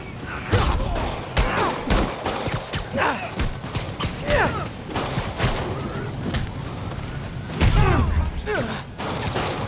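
Gunfire in Marvel's Spider-Man on PS5: rapid sharp shots in irregular volleys, loud and close, mixed with whooshes and impacts of a game fight.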